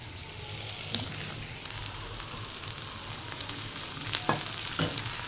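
Onions and chilies fry in a pan over a gas flame, an even, moderate sizzle with a few sharp utensil clinks and stirring knocks, close and steady without talk.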